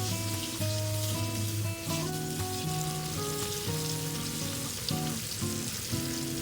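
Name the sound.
starch-coated catfish pieces frying in oil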